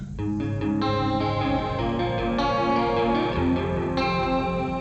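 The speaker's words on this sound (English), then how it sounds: "panned over on the right, we have our chorus and trem guitar" Electric guitar with a shimmering, wavering chorus and tremolo effect, dense and sustained, playing a few chord changes with no talking.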